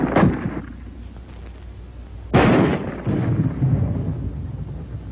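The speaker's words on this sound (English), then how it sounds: "armor-piercing ammunition can smash through this kind of wall any time" Armor-piercing ammunition slams through a wall in two heavy booming impacts, a first blast followed about two seconds later by a louder crash with rumbling debris trailing off.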